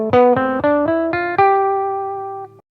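A Mixolydian scale starting on G rises as six clean, bright synth-like notes in quick succession, the last one held and slowly fading, played alone.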